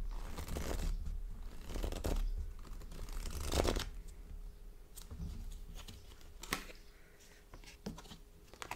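A tarot card deck being shuffled, with papery riffling and soft rustling bursts interrupted by sharper flicks, close and moderately loud.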